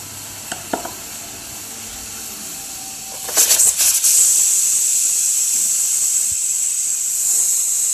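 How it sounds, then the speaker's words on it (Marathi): Pressure cooker boiling potatoes lets out a loud steam whistle that bursts in after a few quiet clicks and then hisses steadily, close by, with no one speaking. "कुकरची सुट्टी बघा झाली"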